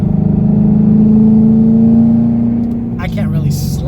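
A Ford Mustang (2015-2017 model, built) drives with its engine droning loud and steady, a low rumbling hum that eases off near the end while a voice speaks over it.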